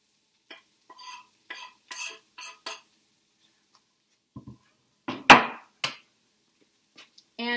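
Broccoli and onion stirred in a pan, with sparse, irregular scrapes and clinks of a utensil against the pan and one sharper knock, separated by silences.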